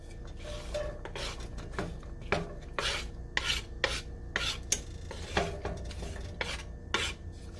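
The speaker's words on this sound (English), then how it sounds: "I'm going to add in my onions and peppers." Onions and peppers sautéing in melted butter in a cast iron skillet, a soft sizzle under repeated scraping strokes of a utensil against the iron, close and rhythmic, with no voices.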